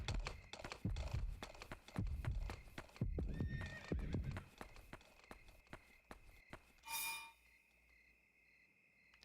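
A horse in the video game Yomawari clip-clops in a steady rhythmic walk, hooves loud and close, then trails off before a short high whinny rings out near the end, followed by quiet.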